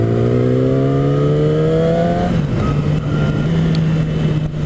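A 2014 Yamaha R6 motorcycle engine revs hard and loud through first gear, its pitch climbing steadily before dropping at a gear change and settling into a sustained roar.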